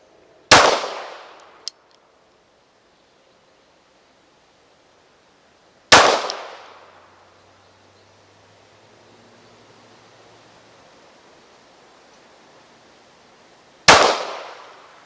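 Three gunshots from a Derya DY9 shotgun at an outdoor range, fired at 25 yards, each a sharp loud blast with a decaying tail, spaced several seconds apart with quiet between them.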